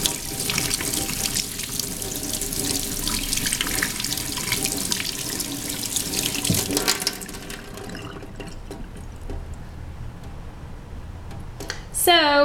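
Tap water runs steadily into a sink while a paint brush is rinsed under it, a loud broadband rush for about seven seconds that then drops to a softer trickle, with a brief clatter near the end.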